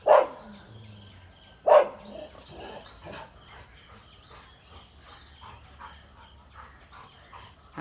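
A pet dog barks while chasing crows on a terrace, two sharp loud barks a couple of seconds apart, followed by faint scattered background sounds and distant birds.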